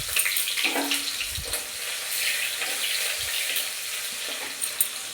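Chopped onions sizzle in hot oil in a pan for an Indian potato and pointed gourd dish, a steady close frying crackle with a few faint clinks and no talking.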